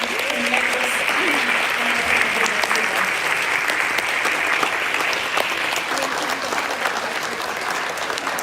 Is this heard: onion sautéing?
no